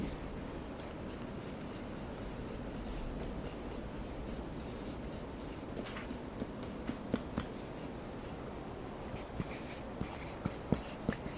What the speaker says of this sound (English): I'll just draw it for you here.